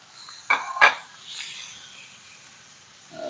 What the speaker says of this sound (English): put my shrimp in the pan here. Just gonna splatter a little bit because the shrimp are still damp